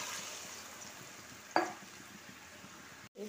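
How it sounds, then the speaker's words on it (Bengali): Water is poured into frying Afghani chicken, a steady sizzle broken by a sudden sharp burst of spitting, then a brief dropout before the hiss resumes. "এবার এতে আমি একটু জল ঢেলে দেব।"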